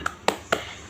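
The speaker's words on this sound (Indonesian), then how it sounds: "Tepuk semangat" Three sharp hand claps in quick even succession, near and clear, from a classroom rhythmic clapping routine called tepuk semangat during a microteaching lesson, the first one lighter than the other two.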